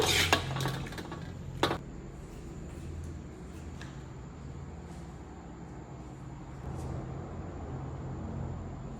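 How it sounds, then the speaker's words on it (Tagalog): Squid being stir-fried in a pan, opening with clanks of a utensil against metal and a sharp clatter, then a quieter steady sizzle and hiss of cooking. "Stir fry pusit po with koli."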